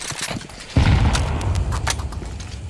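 A grenade goes off in a shooter video game, a sudden loud low boom that then rumbles on under scattered gunfire and clattering effects.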